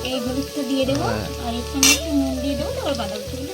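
Turmeric-spiced cabbage curry with tomato and green peas stirred in a pan, a steady sizzle with scraping strokes under a hum of tonal, voice-like sound and brief talk, with one sharp bright burst midway.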